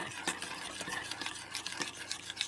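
Batter for double-dipped cod is stirred in a bowl, close rhythmic scraping and clicking strokes repeating quickly and steadily, fairly soft with no talk.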